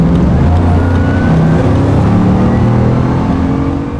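A Bugatti Chiron roars at full power, its engine loud and close in a sustained, dense accelerating growl with a rising whine, and no talking heard.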